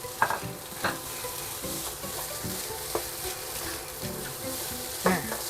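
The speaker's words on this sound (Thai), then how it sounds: "ผัดไปก็จะมีกลิ่นหอมของ ซีอิ๊วดำ แล้วก็ใส่มะเขือเทศ" Rice stir-fried with dark soy sauce and tomato: a constant sizzle under irregular spatula scrapes and knocks against the pan, near and moderately loud.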